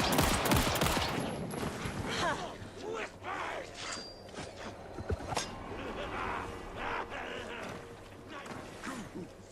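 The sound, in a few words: gunshots from the video game Alan Wake 2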